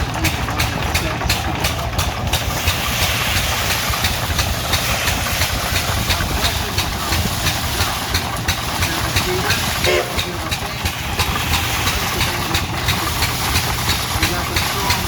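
Engine driving a belt-driven groundhog thresher at a threshing demonstration, a steady, loud mechanical drone and rumble that runs throughout with a constant low hum and busy clatter above it; a person talks faintly underneath.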